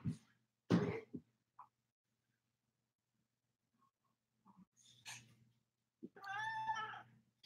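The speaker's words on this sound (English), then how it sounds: "I want to show you my newest kitten." A blue golden Persian kitten lets out a drawn-out, fairly clear meow near the end, after a few scattered soft bumps and faint sounds in an otherwise quiet room.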